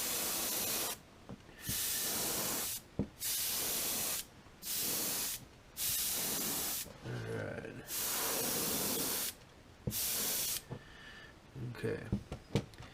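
An airbrush sprays a thin coat of aluminum light gray paint onto a fishing bait painted as a juvenile rainbow trout, in close, steady hissing bursts of one to two seconds separated by short pauses, with some talk and handling noise between them.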